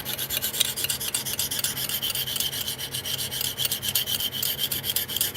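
A file rasps steadily across a knife blade edge to raise a burr, making a fast, continuous train of close, even strokes that runs unbroken for over five seconds with no voices.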